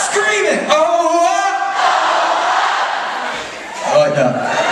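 A concert crowd at a gig at The Forum in Hatfield screams and shouts loudly in unison, sustained yells rising and falling with a brief dip before another surge.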